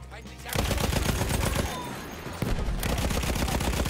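Rapid automatic gunfire in a first-person shooter video game, dense loud bursts of shots in quick succession with a brief lull, close and sustained throughout, with no speech over it.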